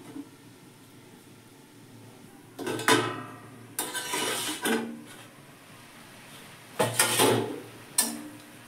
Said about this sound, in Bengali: কড়া ঢাকা দিয়ে দিলাম।